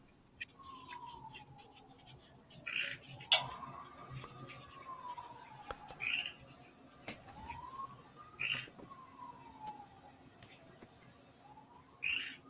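A slow rising and falling wail repeats like a distant siren, with short chirpy calls in between, plus faint clicks and background noise.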